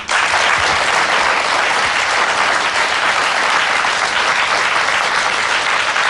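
A concert audience applauds steadily and loudly for a Bulgarian singer, a dense, sustained wash of clapping from many hands with no pauses throughout.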